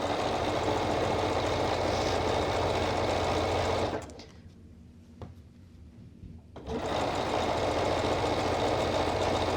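A sewing machine stitching a stretched neckband into the neckline of a Wexford top, running with a loud steady mechanical whir that stops briefly halfway through and then resumes, close up.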